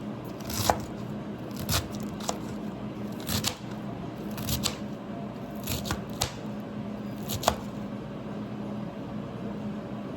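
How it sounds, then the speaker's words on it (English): A knife dices sliced cabbage very thin on a cutting board for Guyanese-style fried rice, giving sharp, irregular chops in small bursts over a low background hum. "now I'm gonna turn it around and I'm gonna dice it very thin"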